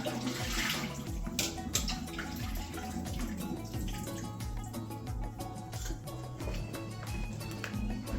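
Water poured or drained out of a cooking pot during dinner preparation, a steady splashing, gurgling flow that runs continuously at close range with no talking over it.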